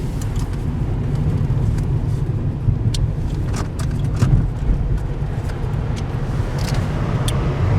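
A car engine runs steadily at close range with a constant low rumble and occasional faint clicks, with no starting sequence clearly evident and no talk.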